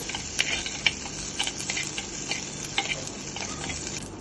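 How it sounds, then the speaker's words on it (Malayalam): Steady sizzling of shallots and garlic sautéing in a pan, with scattered clinks and stirring scrapes, close by and continuous, no voices. "ചെറിയ ഉള്ളിയും വെളുത്തുള്ളിയും ഒന്ന് വാട്ടുക"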